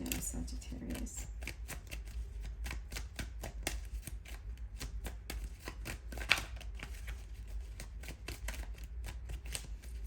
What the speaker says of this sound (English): I'm going to shuffle because that card came out sideways